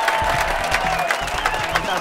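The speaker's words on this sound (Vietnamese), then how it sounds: "Một tràng pháo tay ủng hộ tinh thần cho cô vững tâm hơn" Audience applause fills a Vietnamese television game-show studio: steady, dense clapping and crowd noise run through the whole stretch without a break, with faint voices mixed in.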